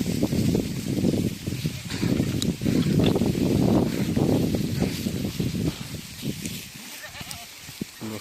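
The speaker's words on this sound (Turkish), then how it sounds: "koyunlar nasıl geliyor." A flock of sheep bleating outdoors on a hot day near a village, many overlapping calls rising and falling at close to medium distance with some rustling, fading toward the end.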